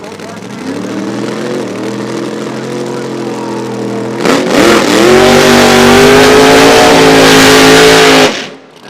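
A 1971 Plymouth Duster drag car with a big-cubic-inch Chrysler wedge-head engine idles loudly at a drag strip, then blasts into a roaring full-throttle launch that holds for several seconds before cutting off abruptly.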